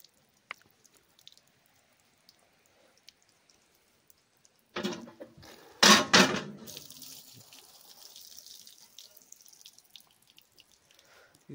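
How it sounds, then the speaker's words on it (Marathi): Water from a borewell hand pump outdoors starts with a loud, splashing gush, then settles into a steady, quieter flow and trickle, with near silence before it. "हे बघा असं पाणी कसं निघतच राहिलंय."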